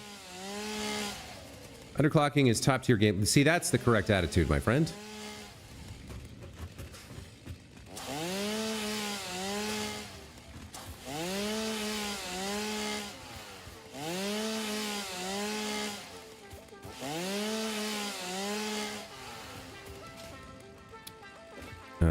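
A chainsaw clearing trees in the video game Satisfactory, a lake forest setting, revving in repeated loud bursts of about two seconds each with short gaps between, after a harsher grinding burst near the start, and a voice speaks over it at times.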